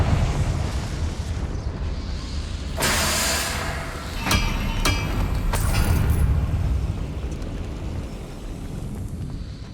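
Confringo blasting spells explode in the video game Hogwarts Legacy, a rumbling burst followed by two sharp cracks and another blast, all over a low ambient rumble.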